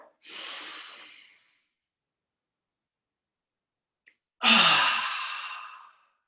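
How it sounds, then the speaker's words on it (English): Two long, audible breaths during a qigong breathing exercise: a first airy breath fading out, a pause of near silence, then a louder, fuller breath that tapers slowly, close to the microphone with no talking. "inhale, open, and exhale"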